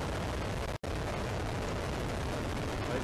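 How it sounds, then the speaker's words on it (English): A United Launch Alliance Delta IV Heavy rocket carrying NROL-71 lifts off with a loud, continuous broadband roar and crackle that fills the whole clip, broken only by one very brief dropout near the start. "And liftoff of the United Launch Alliance Delta IV Heavy rocket with NROL-71"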